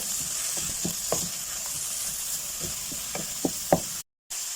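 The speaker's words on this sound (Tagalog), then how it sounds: "So, gisa-gisa lang ng konti." Carrots sauté in a pan for pancit bihon, with a steady close sizzle under scattered knocks and scrapes of a utensil stirring against the pan, with no talk.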